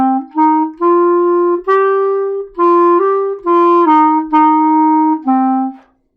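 A solo clarinet plays a short beginner-book melody from song 83 as a series of about nine clean, separately tongued notes with slight gaps, close and alone, ending on a held note that fades out.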